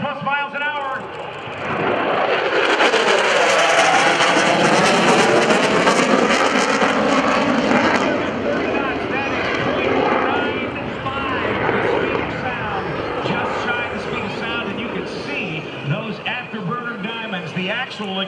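A loud F/A-18F Super Hornet jet roars past at an airshow, its engine noise swelling and rumbling through the whole stretch while someone talks excitedly over it.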